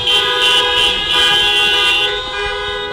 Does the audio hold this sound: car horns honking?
yes